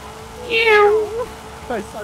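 A cat meows once, clear and close, with a rising then falling pitch, followed by a shorter second meow during a Forza Horizon 5 live stream; someone talks nearby.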